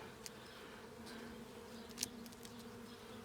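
Honey bees buzz in a package hive during an eight-week inspection, a steady low hum of many insects with occasional louder passes close by, no voices.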